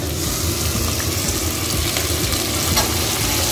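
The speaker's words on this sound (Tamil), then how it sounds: "இப்போ நான் வந்து தக்காளி 3 கட் பண்ணி வச்சுருக்கிறேன், அதையும் சேர்த்துக்கிறேன்." Chopped tomatoes added to softened onions for a prawn gravy fry loudly and continuously in a nearby pan, a dense, even sizzle with faint stirring ticks and no voices.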